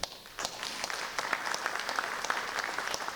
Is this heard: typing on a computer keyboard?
no